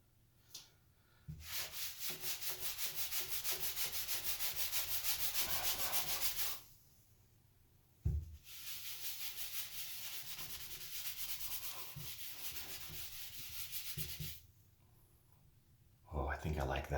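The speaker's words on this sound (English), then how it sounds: "See what sanding with a sponge does." Two long stretches of steady, close scratchy rubbing with a sanding sponge, each a few seconds, separated by a quiet pause, with sharp touches at the start of each pass.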